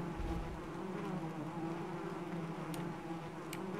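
Swarming bees in the ARK Crystal Isles game cave give off a continuous low buzzing hum, near and unbroken, with a couple of brief soft ticks near the end.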